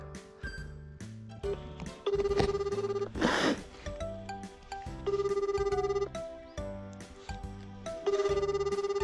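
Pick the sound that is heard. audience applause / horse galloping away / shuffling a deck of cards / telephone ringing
telephone ringing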